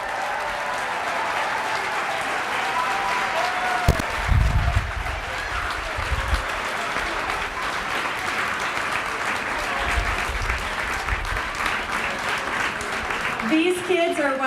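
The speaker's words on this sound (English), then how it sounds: "give them a big round of applause" Big round of applause from an audience at an elementary school closing ceremony, sustained dense clapping throughout, with crowd voices and a few low thumps mixed in.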